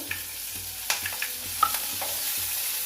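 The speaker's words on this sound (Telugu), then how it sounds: "ఇట్లా కొంచెం వేగితే ఇవన్నీ ఉల్లిగడ్డలు వేసుకున్నానండి, పచ్చిమిర్చి" Onions and green chillies fry and get stirred in hot oil, a soft steady sizzle broken by a few light scraping clicks, close by with no talk.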